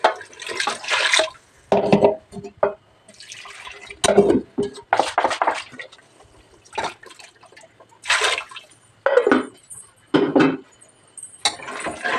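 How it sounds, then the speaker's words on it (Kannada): Water is poured into a pot of sambar in repeated short splashing bursts separated by brief pauses, close and clear with no talk. "ಇವಾಗ ನಮಗೆ ಎಷ್ಟು ಸಾಂಬಾರಿಗೆ ನೀರು ಬೇಕೋ ಅಷ್ಟನ್ನು ಸೇರಿಸ್ಕೋಬೇಕು"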